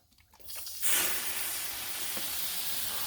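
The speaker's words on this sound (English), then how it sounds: "I'm going to create some steam action" Steam hisses and sizzles under a large dome on a Blackstone griddle cooking New York strip steak and corn on the cob, rising sharply to a loud, steady hiss that holds throughout.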